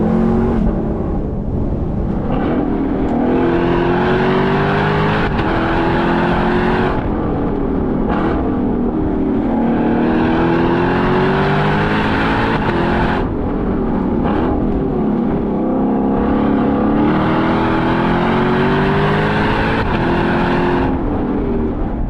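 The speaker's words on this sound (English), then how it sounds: "an awesome V8 engine under the bonnet" Lexus LC 500 Convertible with its V8 engine accelerating in repeated rising sweeps through the gears, loud, close and continuous, with no talk over it.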